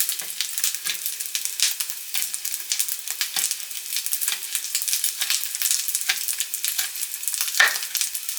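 Garden onions frying in a pan, a continuous bright sizzle with repeated scraping stirs of a utensil, close and fairly loud with no talking.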